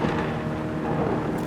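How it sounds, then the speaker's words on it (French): Thunder in a violent storm: a deep, continuous rolling rumble with a steady loudness throughout and no voices. "un tonnerre fracassant."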